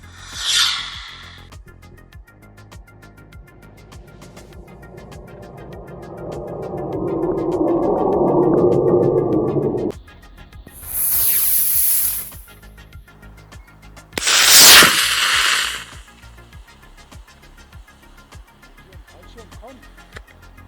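A model rocket motor ignites and launches outdoors, a swelling hiss and rush that builds and fades away, followed by two sharp bursts of noise, with quiet surroundings in between.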